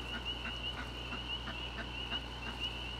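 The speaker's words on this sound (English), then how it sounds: "there's the ducks" Ducks quacking in a steady, repeated rhythm of short calls over a constant low hum, moderately distant and fairly faint.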